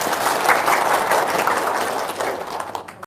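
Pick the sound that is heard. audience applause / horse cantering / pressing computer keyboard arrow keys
audience applause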